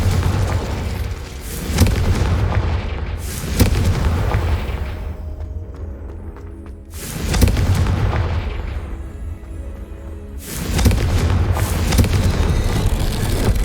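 Booming fiery blasts from Confringo and Incendio spells in the Hogwarts Legacy game come in several loud rumbling waves, each swelling and fading, separated by brief quieter gaps.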